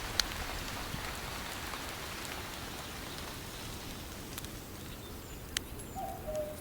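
Rain in the video game This Land is My Land falls as a constant soft hiss of drops, with a few sharp drip clicks and faint bird coos in the background.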